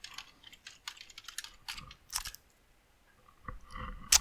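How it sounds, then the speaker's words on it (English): Someone types a website address on a Mac computer keyboard, with quick clustered key clicks close by, a pause, then a few final taps and a sharper keystroke at the end. "Just type the URL."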